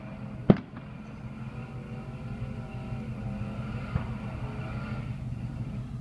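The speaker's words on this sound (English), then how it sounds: "Yeah, fireworks" A firework bursts once with a sharp, loud crack near the start, followed by a fainter second pop, over a steady outdoor rumble at a smelt fishing spot.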